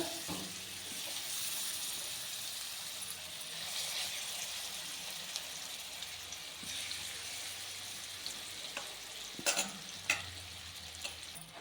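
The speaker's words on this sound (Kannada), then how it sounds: "ಮೀಡಿಯಮ್ ಉರಿಯಲ್ಲೇ ಇದನ್ನು ಫ್ರೈ ಮಾಡ್ಕೊಳ್ಳೋಣ." Pieces of tandoori chicken fry over a medium flame in a pan, giving a steady broadband sizzle that runs throughout, with occasional sharper crackles and spatula scrapes near the end; no one talks.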